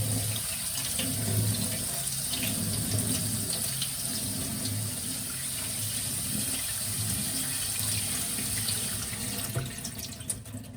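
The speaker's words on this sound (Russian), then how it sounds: "хорошенько промываю его под проточной водой" Sprouted whole grain rinsed in a colander under a running kitchen tap, a steady close splashing gush of water continuing throughout with slight variations as the grain is stirred.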